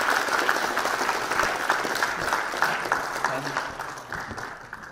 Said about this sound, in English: Give them best applause.